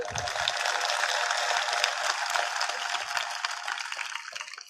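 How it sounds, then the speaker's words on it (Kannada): Sustained audience applause at a Kannada devotional discourse, a dense steady wash of clapping that holds loud for several seconds before easing slightly at the end, with no voices over it. "ಒಂದು ಚಪ್ಪಾಳೆ ತಟ್ರಿ ಅವ್ರಿಗೆ"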